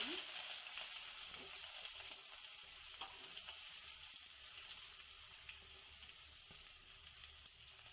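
Cumin, mustard seeds and urad dal splutter in hot oil, a steady bright crackling sizzle with scattered sharp pops running throughout, close and even, with no voices.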